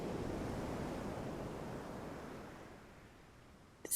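Sea waves wash onto a deserted beach in a soft, continuous rush of surf, slowly fading over a few seconds with no voices.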